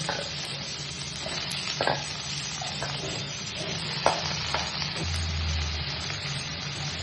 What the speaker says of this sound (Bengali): এবার ভালো করে আলুটাকে ভাজবো